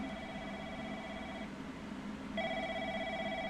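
A telephone rings in a video game with a steady electronic trill that breaks off briefly midway and then resumes, loud and close over a low background hum.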